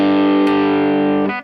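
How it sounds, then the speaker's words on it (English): Electric guitar running through the Anxiety overdrive on a Headrush pedal gives a thick, driven chord that rings loud and steady, with a brief pick accent partway through and a short restrike before it cuts off. No voices are heard. "here's the anxiety overdrive."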